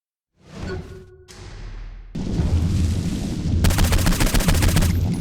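Flaming bullets fired in the video game Saints Row IV: a fiery whoosh opens, then dense, loud gunfire rattles continuously, with a harsh crackling burst near the end.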